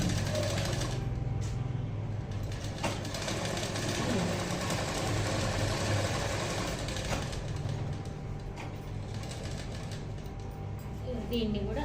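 A sewing machine stitches a blouse with a continuous mechanical whir at moderate level, its motor hum running steadily underneath while someone talks over it throughout.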